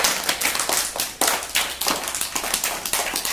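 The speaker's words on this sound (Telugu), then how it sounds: "క్లాప్స్ కొట్టండి" Students in a village classroom clap together in a loose, uneven burst of sharp hand claps, close and steady for a few seconds with no talking.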